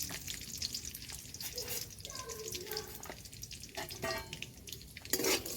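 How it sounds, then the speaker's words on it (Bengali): Peanuts fry in white oil in a pan, giving a steady wet sizzle and hiss with stirring scrapes. A voice speaks briefly over the frying. "এই চীনা বাদাম ভেজে দেবো"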